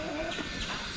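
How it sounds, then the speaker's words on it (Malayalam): A native country chicken gives a brief cluck at a house, a short close call against a busy background. "നാടൻ കോഴി."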